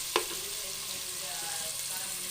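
Masala and tomatoes frying in a pan for a khashkhash dish, a soft steady sizzle close by, with one brief sharp clink of a utensil near the start.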